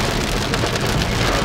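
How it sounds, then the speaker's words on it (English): Heavy rain pounds steadily and loudly on surfaces during a thunderstorm, a dense, continuous roar with no voices. "there's so much lightning and so much storm and thunder and rain"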